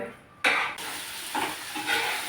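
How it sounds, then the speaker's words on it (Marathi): Small, tender brinjals roasting directly on a gas stove flame give off a soft crackling sizzle, starting with a sudden hissy burst and continuing in quieter popping waves close by. "इथं गॅसवरती वांगी भाजायला ठेवलेत छोटी अशी मस्त कवळी वांगी आहेत"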